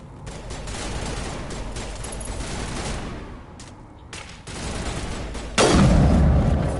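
Rapid gunfire in Mass Effect Legendary Edition, a dense volley of repeated shots that dips briefly, then returns and swells into a louder heavy burst near the end.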